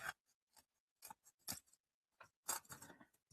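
Scissors cutting long thin strips of paper for card making, a quiet series of separate snips and crisp slicing strokes close by, with short pauses between cuts and no talking.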